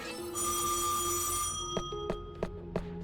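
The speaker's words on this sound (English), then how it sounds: "Wonder why there's the phone sound every time." Telephone ringing effect in the video game Death end re;Quest 2: a sustained bright ringing tone, followed by several sharp chime-like hits in an uneven rhythm over a steady game backdrop.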